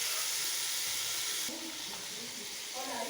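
Chicken frying (bhuna) in a pot, a continuous hissing sizzle that drops in intensity halfway through, with faint background sounds beneath.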